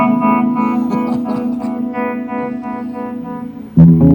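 Electric guitar played through the tremolo on a Deluxe amp, a sustained chord pulsing with a steady wavering throb and reverb, then a fresh strum near the end.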